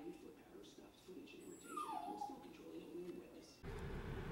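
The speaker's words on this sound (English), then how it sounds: "Looks like Tony and Terry got a whiny dog too when they leave." A dog whines in a thin, falling whimper, heard faintly inside a car over steady road noise, with a short high squeal before a louder burst of engine rumble.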